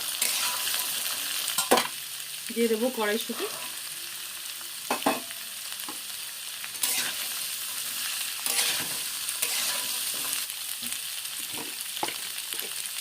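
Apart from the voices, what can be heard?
vegetables frying and being stirred in a pan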